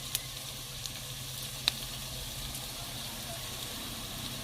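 Mint leaves and spices frying in oil for a Kolhapuri-style goat leg soup, giving a steady soft sizzle with a few faint clicks, no talk.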